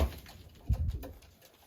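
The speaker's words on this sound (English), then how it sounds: "Usually a cockbird will coo and dance and spin a lot like that." A racing pigeon cock bird gives a short, soft, low coo, faint and close, over a quiet background.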